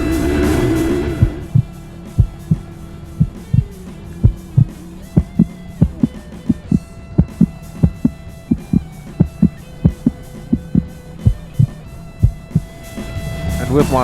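A steady, heavy heartbeat sound effect thumps in regular double-pulse rhythm, loud and close over a low hum and droning music bed.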